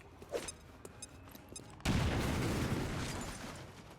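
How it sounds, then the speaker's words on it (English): A grenade explodes in XCOM 2, a sudden broad roaring blast that cuts in after a quieter stretch of game sounds and rumbles on loudly for a couple of seconds before slowly easing off. "speaking of grenades, we're going to see Frank toss his first one"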